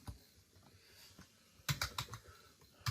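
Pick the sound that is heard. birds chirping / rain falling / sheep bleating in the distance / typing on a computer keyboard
typing on a computer keyboard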